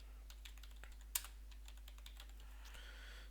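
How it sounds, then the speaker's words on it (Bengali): Someone types print hello world on a computer keyboard in a quiet room, producing a sparse run of light key clicks, one sharper tap standing out near the middle. "আমি এখানে লিখতেছি প্রিন্ট হ্যালো ওয়ার্ল্ড"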